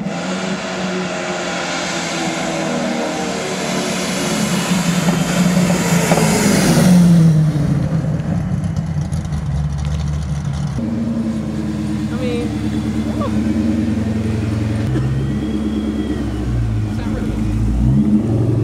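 A Corvette drift car approaches and passes on a dark road, its engine building to a loud rev near the middle then falling away, with people talking over it.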